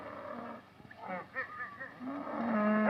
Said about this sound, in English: What are you doing with my cattle?